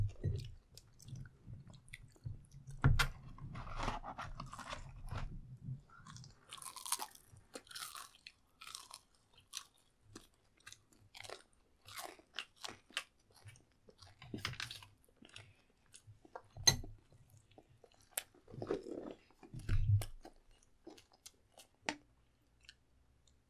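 Crunchy jjajang-sauced fried chicken being bitten and chewed close to the mic, with irregular crisp crunches and quiet mouth sounds over near silence.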